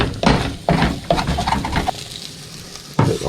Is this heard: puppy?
no